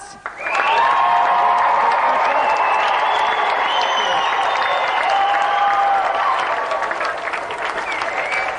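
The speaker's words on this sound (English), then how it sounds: "let's have another big round of applause for today's guest." Loud, sustained applause from a large TV game show studio audience, with cheering and whoops, starting abruptly and continuing steadily throughout.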